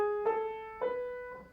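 Three sustained instrument notes of a B dominant Lydian scale fragment, each struck clearly and ringing with steady harmonics, played alone with no talking.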